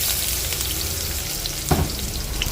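Garlic added to hot oil with a little ginger for mackerel tinola, sizzling and frying steadily close up, with a brief louder crackle partway through and no talking.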